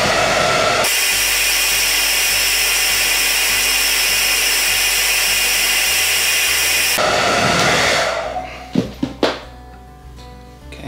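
A heat gun heats a sticker on a scooter rear tire, a steady loud blowing roar that runs for about seven seconds, then cuts off, leaving faint handling clicks and knocks.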